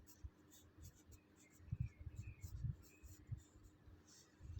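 Pen or pencil strokes scratch faintly across paper as a fraction is written by hand, a few short close scribbles in a quiet room.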